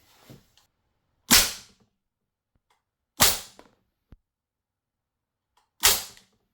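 Umarex AR-15 Strike Force airgun fired from one meter away, giving three sharp, loud, close cracks spaced a couple of seconds apart, each with a quick decay, and a faint small click between them.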